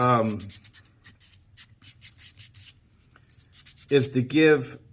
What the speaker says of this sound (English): Now I'm gonna rough up the surface.